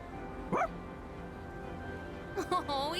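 A dog in the video game Persona 3 Reload gives a couple of short barks, one near the start and another pair near the end, over a steady background of game music.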